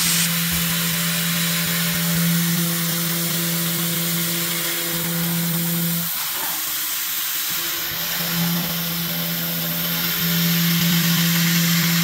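A home-built PrintNC CNC router running a chamfer tool on 6061 aluminium alloy, giving a steady loud spindle whine with a cutting hiss that dips briefly midway, then resumes, with no talk.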